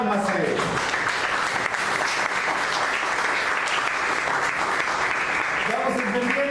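A church congregation applauds, a dense continuous roar of many hands clapping together at a steady level, with a voice speaking over the start and the end.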